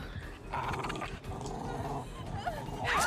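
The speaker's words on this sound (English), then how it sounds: "Oh, you got a dog." A dog growls and snarls in the horror video game Dead by Daylight, a low continuous rumble with a rising bark-like burst near the end over game ambience.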